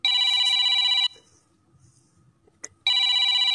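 An incoming call sets a telephone ringing loudly and close in two electronic bursts, about a second each, separated by a quiet gap with faint rustling and a small click.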